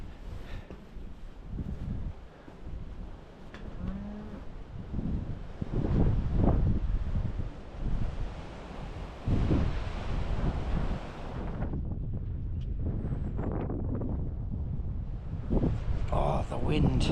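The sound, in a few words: strong wind on the coast at Shetland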